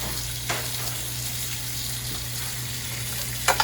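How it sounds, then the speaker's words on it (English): A constant, even sizzle of jumbo shrimp and scallops searing in a hot pan, with a low hum underneath and a couple of brief clicks near the end. "if it's hot when it goes in there and you hear that sizzle"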